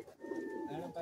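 A Madrasi high flying pigeon from Kolkata gives a single short, soft coo up close, with a voice faintly present.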